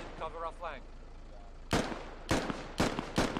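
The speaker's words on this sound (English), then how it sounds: "Shots being fired here." Gunfire in the video game Squad: four loud, sharp shots fall at uneven intervals in the second half, after a brief radio-like voice at the start.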